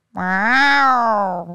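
A person imitates a cat's meow with one drawn-out, rising-then-falling whine, voiced close and fairly loud on its own.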